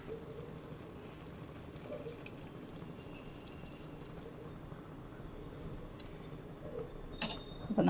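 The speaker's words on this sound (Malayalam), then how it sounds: "നമുക്ക് ഈ മിക്സിയുടെ ജാറിലേക്ക് കുറച്ച് വെള്ളം ഒഴിച്ച് കഴുകി ഒഴിച്ചു കൊടുക്കാം." Rinse water from a mixer jar poured into simmering jackfruit erissery, a Kerala curry: quiet splashing and dripping trickles under a low background, with a louder clatter at the end.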